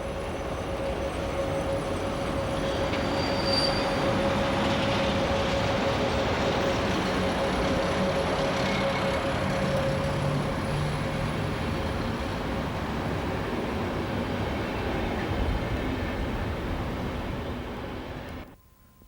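The Rembrandt passenger train pulls away from a platform on the Rhine line, a steady broad rumble of wheels and rolling stock with a faint sustained tone, loud and continuous before cutting off abruptly.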